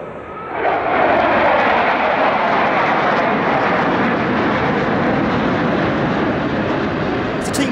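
Aerobatic formation team flying at the LIMA Langkawi 2023 airshow, a heavy sustained engine roar swelling in within the first second and holding loud and steady overhead, with no talk.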